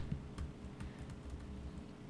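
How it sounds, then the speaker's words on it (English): Keys on a QWERTY computer keyboard are pressed in a quick, irregular run of soft clicks, close and faint, with no voices. "because I'm using my QWERTY keyboard, now I can trigger that"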